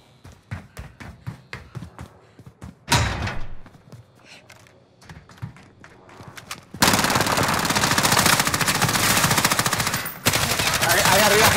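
Automatic gunfire rattles in Warzone on Alcatraz, first scattered single shots and short bursts, then a long dense sustained barrage of rapid shots that briefly pauses and resumes loudly.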